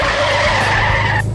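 A truck skids hard with loud screeching tires and a rumbling engine in a game where a stolen camping truck rams into people, the squeal sustained and close before cutting off abruptly near the end.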